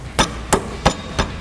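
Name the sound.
hammer tapping lower control arm into place on 2009 Mustang GT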